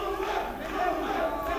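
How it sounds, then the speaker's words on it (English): At a Combat USA MMA state finals bout, an arena crowd chants a fighter's name in a steady, rhythmic roar that fills the whole moment. "As the crowd's chanting his name"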